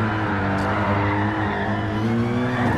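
A race car spinning out at Monza in a racing video game, loud engine drone with layered harmonic tones and sliding pitch, tyres scrubbing as the car rotates, continuous and close.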